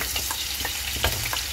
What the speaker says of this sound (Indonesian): Kemudian kita goreng dulu kentangnya teman-teman.